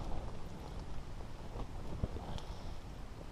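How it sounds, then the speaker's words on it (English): Steady rain patters on a tent during a wild camp on a beach headland at night, a dense, even wash with occasional sharper drops and gusts of wind, no voices. "Plenty of rain, just no light show."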